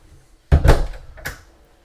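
A cupboard door in the crew area of a Princess X80 yacht swings open with a short thump and clack, followed by a lighter knock, close and brief in a quiet room.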